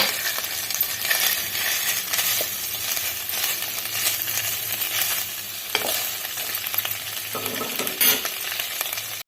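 Khoya is heated and stirred in a kadhai for serving with gajar ka halwa. A soft, continuous sizzle plays under repeated scraping strokes of the spoon, with a louder clatter near the end.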